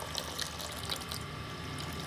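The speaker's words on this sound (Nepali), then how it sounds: "यो टङ्कीबाट पानी निस्किरहेको छ" Dirty, muddy water drains from a motorcycle fuel tank, a low steady trickle and pour running throughout, close but fairly quiet.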